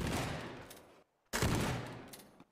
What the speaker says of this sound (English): I just accidentally shot it